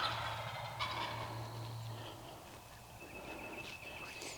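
A wild turkey gobbler gobbles on Mississippi public land, a faint, distant rattling call carrying over quiet woods with no talk.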